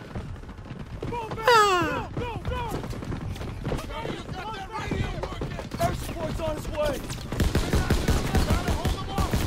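Rapid gunfire crackles through a Call of Duty: WWII video game battle as dense repeated bursts, heaviest toward the end, mixed under speech and other game sounds.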